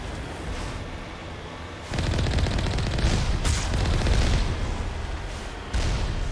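Turret fire booms in the game Mass Effect, a dense, continuous barrage of heavy shots and blasts that swells louder partway through and keeps pounding with short dips.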